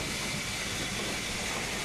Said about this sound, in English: Here our A-class leaves Bury Bolton Street